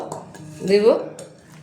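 Dry fruits tipped into an eggless plum cake batter in a metal bowl, a short clatter and scrape of utensil against dish, fairly close and brief, with quiet talk around it.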